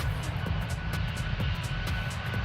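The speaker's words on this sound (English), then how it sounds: "And that engine's loud." A Boeing 737-8 engine in Microsoft Flight Simulator roars as a loud, continuous, even drone with a low rumble, running alone without talk.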